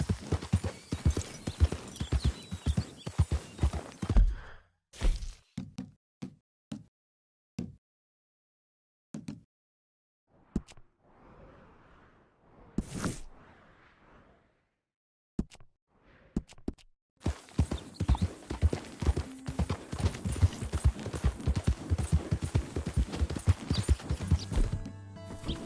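Horse hooves in Red Dead Redemption 2, rhythmic clip-clop galloping that stops for a quiet stretch with scattered single hoof hits and a soft breath, then resumes fast and busy.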